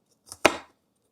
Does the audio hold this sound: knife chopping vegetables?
yes